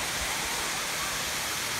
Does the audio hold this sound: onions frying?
no